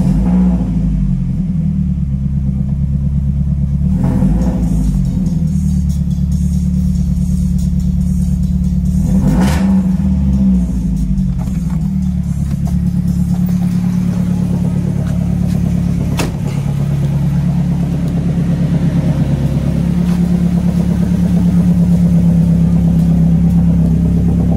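A Mercedes-Benz W202 C180 with automatic transmission starts up and revs repeatedly, the engine rumbling steadily close by with several rising revving swells over a continuous low idle.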